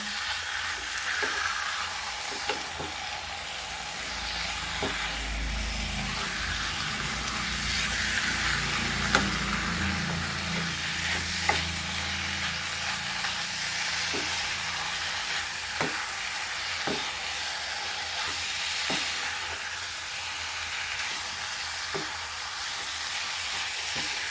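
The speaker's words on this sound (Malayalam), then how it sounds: "ഇനിയിപ്പോൾ ചിക്കൻ ഇട്ട് കൊടുക്കുകയാണ്" Chicken pieces fry in a hot pan, giving a steady close sizzle and hiss with intermittent sharp crackles and occasional stirring scrapes; no one speaks.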